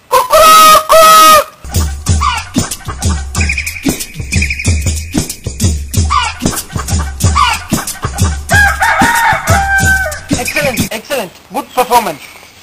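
A person imitates a rooster, with loud crowing calls and clucks, then chatter and laughter from others nearby.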